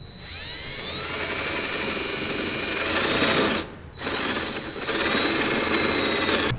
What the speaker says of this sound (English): drill our initial hole in to route stuff through